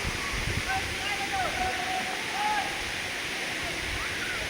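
Rushing water of Ham Ham waterfall pours as a steady broad roar, with faint voices now and then in the background.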